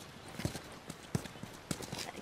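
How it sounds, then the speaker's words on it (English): Horse hooves clip-clop in The Last of Us, a faint, slow, uneven run of sharp knocks, about six or seven hoof strikes, with no talk over them. "You guys have horses."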